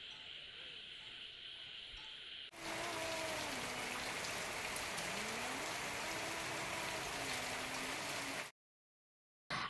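Steady rain falling during a drive in Assam, a dense even hiss that swells louder partway through, continuous and close, before cutting out abruptly near the end.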